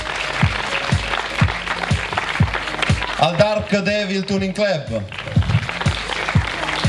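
Crowd applause for the participating tuning clubs at a motor festival in Piandimeleto, a steady wash of clapping running under a loud announcer's voice, with a brief burst of music or horn partway through.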